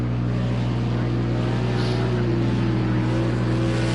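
Race car engine in a racing video game, a Japanese GP round, holding a steady loud drone with rising pitch sweeps as it shifts up through second, third and fourth gears on the front straightaway.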